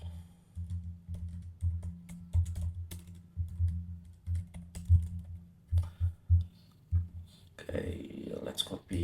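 Rapid keystrokes clatter on a computer keyboard in bursts and pauses, close and fairly loud, ending with a short stretch of quieter clicking.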